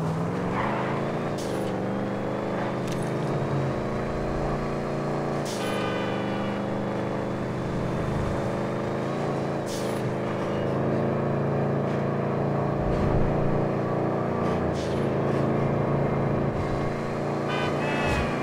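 A deep rumbling V8 muscle car engine in a video game, the Cheval Picador in GTA 5 Online, drones continuously, its pitch rising and dropping with gear shifts and revs, steady and prominent with no talking.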